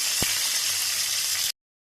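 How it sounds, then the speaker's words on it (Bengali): A fish head fries in oil in a covered pan, giving a loud, steady, close sizzle with one brief low knock near the start, then stopping abruptly. "মাছের মাথাটা আমার ভাজা হয়ে গেছে"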